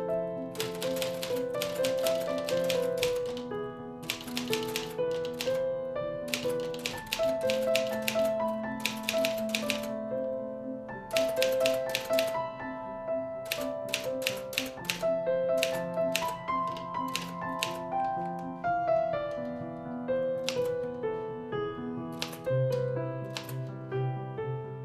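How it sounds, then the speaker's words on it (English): A typewriter used to make artwork clacks in fast clustered bursts of keystrokes with short pauses, set against tonal background music throughout. "artist Leslie Nichols as she paints with a typewriter"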